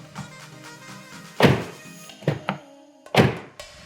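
The door of a JAC T8 bakkie is shut a few times, each close a solid, fairly close thunk with short quiet gaps between them.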